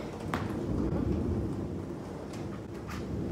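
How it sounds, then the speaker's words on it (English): Deep, continuous rumble of thunder during a storm, rolling steadily throughout with a sharper crack early on and faint rain patter underneath, close and fairly loud with no talking. "I am terrified of thunder and just storms in general."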